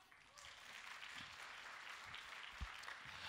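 Audience applause at a Malaysian Chinese-language Atomy compensation-plan seminar, a steady clapping wash from a crowd that holds for the full few seconds at moderate level.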